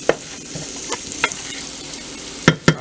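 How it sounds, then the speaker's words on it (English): Shrimps fry in a pan, browning before okra goes in, with a continuous close sizzle broken by a few sharp utensil clacks and stirring scrapes, louder at the end. "we would have fried up our shrimps for a little bit"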